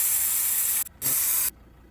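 Air hisses loudly from a tyre through an ARB deflator in two close bursts, the first cut by a short gap before the second, then stops abruptly.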